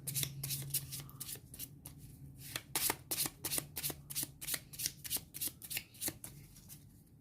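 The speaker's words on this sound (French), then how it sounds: "Je mélange mon deck." A Pokémon trading card deck is shuffled by hand in a run of quick, crisp riffling bursts, close and fairly loud, with no talking.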